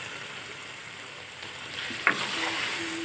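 Turnip and meat curry for Punjabi shaljam meat fries in oil in a pan, a soft steady sizzle close by with a brief scrape or stir near the end.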